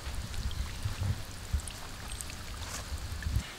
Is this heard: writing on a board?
no